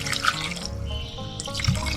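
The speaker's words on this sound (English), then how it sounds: "I like to just make sure that we accurately pour this" Siesta Key rum mixed with honey and spices pours in a short liquid trickle with a few drips, close by, with no talk.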